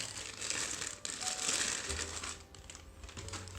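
Long strip of plastic wrap from a Nintendo Switch Lite's USB Type-C charger crinkles and crackles steadily, close and fairly quiet, with a few sharper crunches and no talking.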